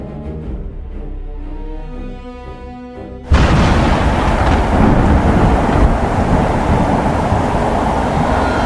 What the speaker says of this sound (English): The rain fell in a torrential downpour.